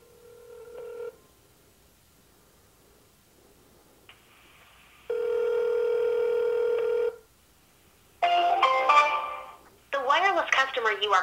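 A phone call placed on speakerphone to a device sealed in a privacy protection bag: a steady ringback tone, then a short pause, followed by a louder network-message tone and a recorded voice announcement.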